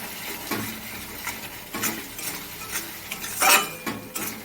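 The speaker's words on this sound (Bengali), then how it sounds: "পরিমাণ মতো লবণ, দিয়ে ভালোভাবে মিক্স করে নেব এটাকে" A spoon stirs spiced katla fish curry with salt in a pan, scraping and clinking against the metal in irregular strokes over a soft sizzle, close and moderately loud.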